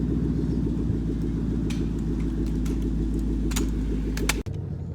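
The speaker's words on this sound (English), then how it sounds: "you get to listen to my cool Roush exhaust" A 2013 Ford Mustang GT idles with a deep, throbbing Roush exhaust rumble, steady and close, with a few light clicks and jingles over it.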